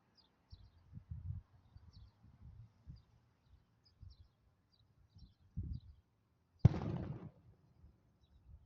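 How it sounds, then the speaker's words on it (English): Fireworks going off outside on the Fourth of July: a few scattered low, muffled pops and thumps, faint and distant, then one sharper, louder crackling burst that fades after a second. "they're starting to bust off them fireworks again"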